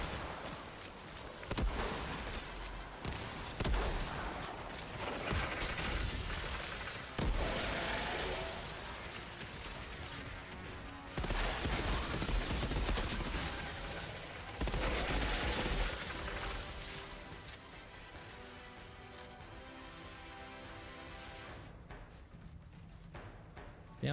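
Rocket launcher blasts and rapid gunfire in a video game firefight, loud dense bursts of shots and explosions running almost continuously, with brief breaks and a quieter stretch near the end.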